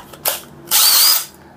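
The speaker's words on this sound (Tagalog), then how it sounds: "So, cordless hammer drill." Cordless hammer drill giving two close, loud bursts: a brief whir followed by a longer, steady high-pitched spin lasting about half a second before cutting off.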